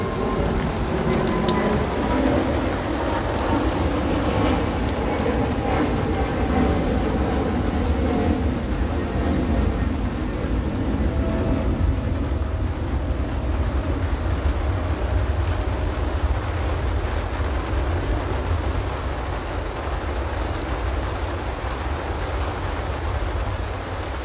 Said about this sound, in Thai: ฝนตกจริงๆด้วย ทุกคนฝนตก